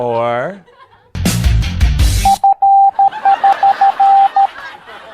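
A guessing game plays a string of steady Morse code beeps, short and long tones in a rhythmic pattern, after a burst of music and a sliding vocal at the start.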